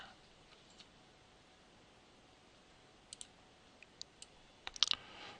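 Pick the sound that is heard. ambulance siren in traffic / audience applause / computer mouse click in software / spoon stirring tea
computer mouse click in software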